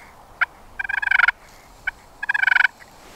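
A turkey pot call imitates a hen's feeding call in two close, quick bursts, each a single sharp yelp followed by a rapid run of clucking purrs. The calling is clear and alone.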